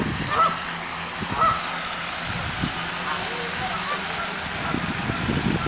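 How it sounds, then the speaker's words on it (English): Geese honk in a city park, a few short, scattered calls at moderate distance over outdoor background noise, with faint human voices nearby. "There's a mama goose with a bunch of babies over there."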